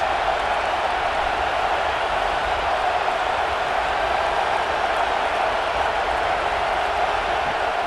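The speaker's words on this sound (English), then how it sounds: "this crowd is turning it up a notch" A stadium crowd roars in College Football 26 during a Texas Tech versus Texas A&M video game matchup, a steady, loud wash of cheering and noise that holds constant throughout with no pauses.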